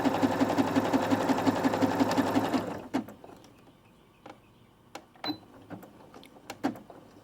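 A sewing machine runs in a steady, rapid stitching burst through bathroom cloth for nearly three seconds, then stops, followed by scattered soft clicks and handling taps nearby.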